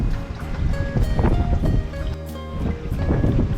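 Gusty wind of about 10 knots buffets loudly aboard a sailing boat in the Gulf of Girolata, mixed with rushing water and creaking, a constant roar rising and easing in waves.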